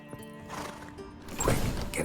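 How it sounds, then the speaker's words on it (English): Horses neighing in The Witcher 3 video game, a short whinny rising briefly amid stable ambience, moderately close with faint shuffling around it. "Gotta calm all the horses before they wake the guards."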